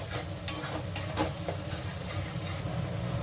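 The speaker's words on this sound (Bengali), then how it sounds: "এগুলো একটু কাঁচা গন্ধ যাওয়ার আগ পর্যন্ত আমি একটু ভেজে নেব।" Spices frying and being stirred in a pan for a vegetarian jackfruit curry, a steady low sizzle with soft scraping stirs and a few light clicks of the spoon, close and continuous with no talking.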